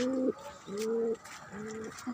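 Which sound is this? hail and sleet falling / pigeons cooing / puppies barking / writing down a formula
pigeons cooing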